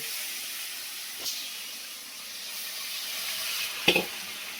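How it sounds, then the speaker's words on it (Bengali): Boiled potatoes fry in hot oil in a pan, giving a steady, even sizzle and hiss with a couple of brief clatters near the end. "এবার আলুগুলো আমি তেলের মধ্যে ভালো করে ভেজে নেব।"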